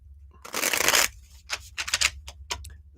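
Deck of tarot cards being shuffled for a live reading, a long riffling burst followed by several shorter quick rustles and flicks, close and crisp with no talking.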